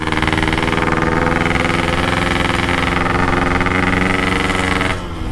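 Yamaha RX King two-stroke motorcycle engine running steadily and loud at close range while pushing a broken-down Vespa up a steep trail, then cutting off abruptly near the end.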